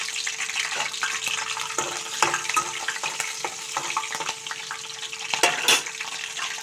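Cumin seeds and lengthwise-cut green chillies frying in oil for a prawn curry, a soft continuous sizzle broken by small crackles and louder pops near the end.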